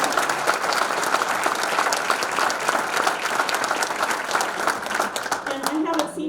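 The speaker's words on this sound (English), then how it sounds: "If you would all please rise so that we can give you a round of applause." A large luncheon audience applauds city council members, a dense steady wash of many hands clapping continuously and loudly, with a voice starting to speak near the end.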